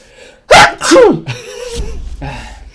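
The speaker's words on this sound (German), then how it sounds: "Dieser äußerst männliche Nieser." A loud, close human sneeze with a sharp intake and explosive burst, followed by a short breathy exhale and faint vocal sounds.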